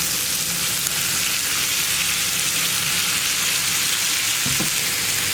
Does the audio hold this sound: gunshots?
no